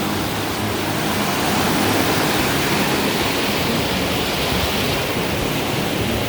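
A river running high over a riffle near a low water dam, a steady broadband rush of flowing water, close and constant with no voices.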